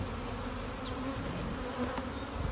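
Honeybees at an open hive during a beginners' hive inspection with an emergency supersedure, a dense steady hum of many insects close by, with a few individual buzzes rising briefly above the drone.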